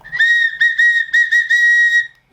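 A cheap plastic toy whistle with finger holes, all holes open, blown in a run of short, loud, shrill toots with a steady pitch and brief gaps between them, alone with no talk.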